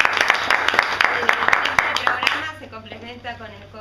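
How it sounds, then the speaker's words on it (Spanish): An audience at a presentation in the Museo del Cine in Buenos Aires breaks into brief, lively applause. The clapping then fades into speech. "Un fuerte aplauso para ellos."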